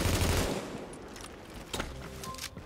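Rapid bursts of gunfire in The Division, loud at first then thinning into scattered shots and clatter, with no talking.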